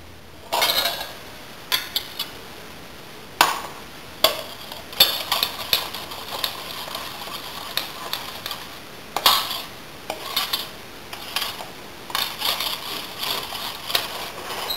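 Yeast roll dough stirred in a bowl, a spoon scraping and knocking against the sides in irregular bursts, close and fairly loud with no talking.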